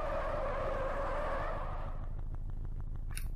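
Car skidding with a long, loud tire squeal after the handbrake is pulled in the driving game Drift Street Japan, a Mitsubishi in play, the screech fading into engine rumble and ticking after two seconds.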